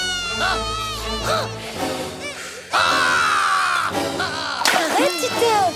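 A cartoon character screams loudly and at length, with several shrill shouts around it. Music and chaotic noise fill the scene.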